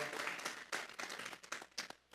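Congregation clapping during a Spanish-language church service, a burst of applause from a crowd that stays fairly quiet and distant, with uneven claps that fade toward the end.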